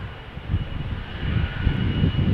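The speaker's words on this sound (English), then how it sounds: "It's Finnair, it's A350, it's beautiful." A Finnair Airbus A350 jet airliner at Amsterdam Schiphol's Polderbaan runway produces a steady, moderately loud engine rumble that swells slightly toward the end, with no talk.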